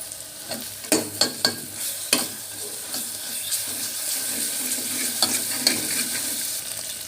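Onion and ginger paste frying for a curry in a pan, a steady sizzle with scattered stirring clatters and a few sharp utensil knocks, close and moderately loud, no talking.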